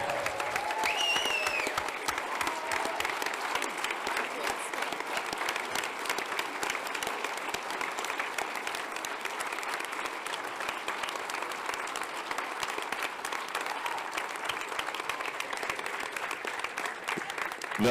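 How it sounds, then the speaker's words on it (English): A standing crowd at a hacker security conference's closing session gives sustained, dense applause, an even roar of many hands continuing loudly for a long stretch. "Stand up round of applause for both Rob Fuller and Ashley"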